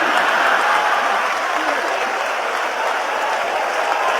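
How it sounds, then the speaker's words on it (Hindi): Applause from the audience at a Kumar Vishvas poetry and comedy stage show, a thick, even roar of clapping that stays loud and steady for several seconds, with no clear speech over it. "भैया तालियां कम बजाते हो आप?"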